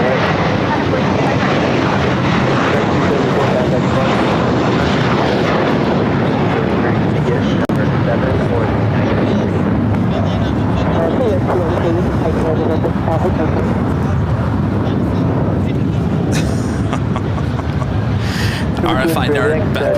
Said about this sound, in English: Green Air A380 Super heading up to the north side